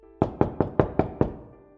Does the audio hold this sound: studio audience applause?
no